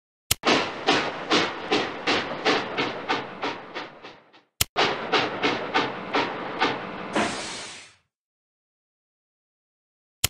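A cartoon steam train chugs in a Curious George train station game, a steady run of rhythmic puffs that pauses, resumes, and ends with a long hiss of steam, loud and close, with no talk.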